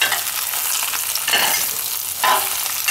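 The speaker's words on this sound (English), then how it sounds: "Scrambled eggs. Ready to cook." Scrambled eggs frying in a pan for an American breakfast, a steady bright sizzle with stirring scrapes and a couple of louder surges, no talking.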